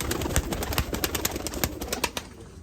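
Pigeon sounds from a male Turkish tumbler pigeon, a gifted bird, with repeated soft coos and flutters close by, alone and fairly steady throughout.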